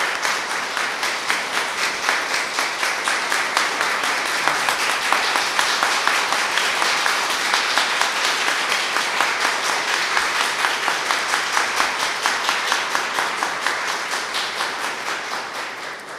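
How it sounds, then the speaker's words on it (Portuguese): Sustained applause for Padre Júlio Lancellotti at a solidarity gathering, many hands clapping steadily for about sixteen seconds, fairly loud and even, tapering slightly at the end. "eu gostaria de pedir que a gente dê um forte aplauso ao Padre Júlio"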